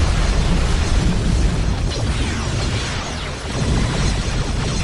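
The starship Enterprise blows apart under heavy blaster fire in the Star Trek Continuum game, a loud, sustained explosive roar with rumbling bursts filling the whole stretch, briefly dipping before swelling again.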